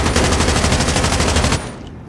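Rapid automatic gunfire from a first-person shooter match in hardpoint mode, a dense sustained burst of loud shots that cuts off abruptly, leaving a brief quieter tail.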